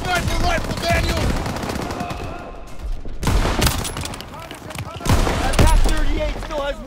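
Rapid rifle and machine-gun fire from Call of Duty: WWII rattles on throughout, loud bursts and booms overlapping with shouted voices in the battle.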